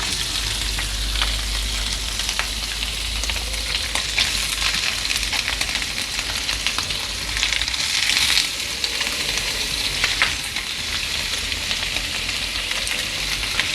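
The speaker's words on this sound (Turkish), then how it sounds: "Görüyorsunuz caz diye bir ses çıkması lazım" Meat for kavurma sizzles loudly and continuously in hot fat, a dense crackling hiss with scattered pops and occasional stirring scrapes, no voices.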